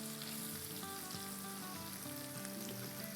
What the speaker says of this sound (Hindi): इसे हम सौटे करेंगे जब तक कि ये ब्राउनिश की तरफ ना आ जाए